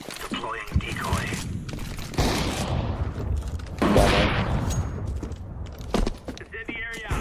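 In Counter-Strike 2, a decoy grenade fakes gunfire. Bursts of shots and booms come in scattered volleys, and voices talk over them.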